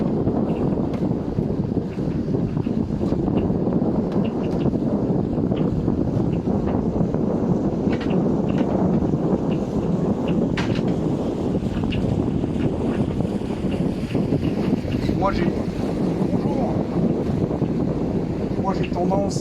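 A small sailboat heads out of a harbour channel in the wind, with steady wind buffeting the microphone and water rushing alongside, broadband and continuous throughout, while faint voices talk underneath.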